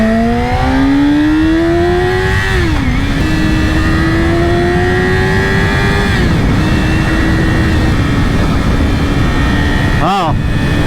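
A 2020 Yamaha R6 sport motorcycle being ridden, its engine whine loud and close with wind rush, rising steadily in pitch through the gears with two brief dips at shifts and a sharp burst near the end.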